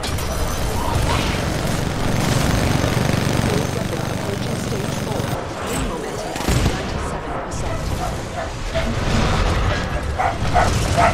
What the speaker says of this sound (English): Why is my dog freaking out?